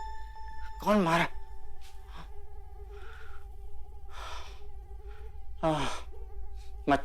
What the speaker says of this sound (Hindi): मच्छर।